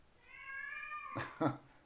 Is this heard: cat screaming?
yes